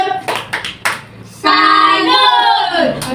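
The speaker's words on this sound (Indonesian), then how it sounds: "Tepuk salut. Salut, salut. Salut, salut." Children in an early-grade primary school class in Indonesia clap a short rhythmic salute: a few sharp claps, then a loud stretch of chanting voices.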